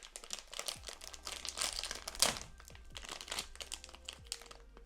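Thick plastic packaging of Chinese New Year snacks crinkling as it is handled and opened, a close, fairly quiet run of crackles and rustles with one sharper tearing crunch midway.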